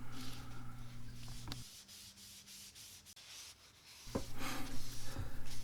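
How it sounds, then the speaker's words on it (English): Cloth wiping boiled linseed oil onto a wooden strop handle, soft rubbing strokes in a rhythmic back-and-forth, close and quiet, with a brief pause midway before the rubbing resumes. "wipe down the handle of the strop with a couple coats of boiled linseed oil"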